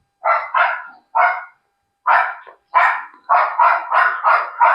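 Two dogs bark in quick bursts while play-fighting, a run of about ten sharp, close barks in uneven clusters with a short gap midway, loud and clear with no talk.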